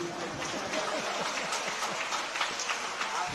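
Listeners at a Jain spiritual sermon break into sustained clapping, a soft, dense crackle that carries on steadily, with a voice speaking faintly beneath the crowd.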